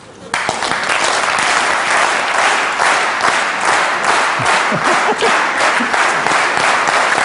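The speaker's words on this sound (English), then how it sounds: "Can you get it together to clap in sync?" A large audience claps together, building from scattered hands into steady, rhythmic synchronized clapping that stays loud and dense throughout, with no talking.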